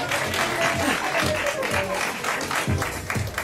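Audience applause at a comedy club show in Atlanta, Georgia, a steady wash of many hands clapping from a nearby crowd that fills the whole stretch with no voices on top.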